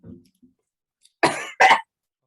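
A woman coughs twice in quick succession, loud and close, after a faint low rumble and a long quiet pause.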